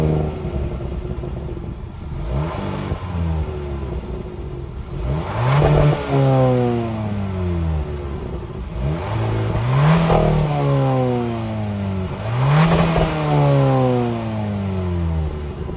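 A 2022 Hyundai Kona N-Line's 1.6-liter turbo engine, with dual-tip exhaust, revs three times in a row. Each burst climbs sharply, then falls back toward idle, loud and close, with no talk over it.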